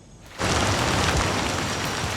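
Rain in the Amazon rainforest, a dense broadband hiss that swells in abruptly after a quiet start and then holds steady and loud, with no voices.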